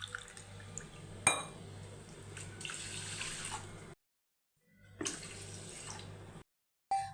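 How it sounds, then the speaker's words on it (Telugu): Water pours and splashes into a pot of washed rice in a kitchen, added for cooking tamarind rice, in two bursts of a few seconds each with quiet gaps between and a brief splash at the very end. "శుభ్రంగా వాష్ చేసుకున్న బియ్యంలోకి 1 కప్పు బియ్యానికి 2 కప్పుల నీళ్లు పోసి"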